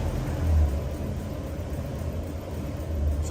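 A Lexus 1UZ V8 engine idles roughly, a steady low rumble that swells slightly in places, with no talk over it.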